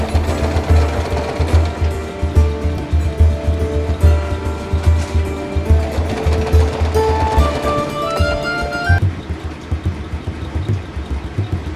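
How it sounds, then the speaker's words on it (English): Sewing machine stitching a Renaissance dress flat: a steady, rapid mechanical chugging at close range that runs for several seconds before slowing and stopping, with a faint tonal hum in the background and no voices. "now I'm just sewing it flat so it doesn't get caught on anything"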